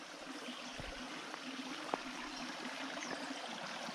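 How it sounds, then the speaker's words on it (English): A babbling brook, Spring Grove Creek in Monona County, Iowa, trickles and burbles steadily over rocks, a soft continuous wash of water with a few faint splashes. "You can hear this babbling brook. Must be some rocks down there causing a little bit of motion."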